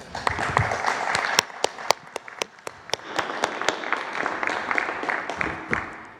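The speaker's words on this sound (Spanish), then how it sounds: "Un aplauso." An audience at a government press conference applauds, with sharp, separate claps ringing out close by over a softer bed of crowd clapping that trails off toward the end.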